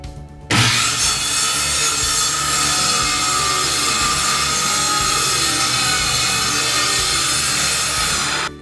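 A power saw cutting plywood in a home garage starts abruptly and then runs as a loud, steady, high whining roar for about eight seconds before stopping.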